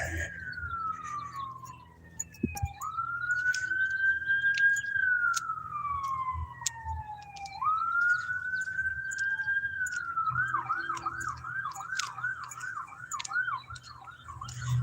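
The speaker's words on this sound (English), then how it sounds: "I may have to plug my ears for a minute because the siren's going by." A loud siren wails in long rising and falling sweeps, then switches to a rapid, repeating yelp as the vehicle goes by.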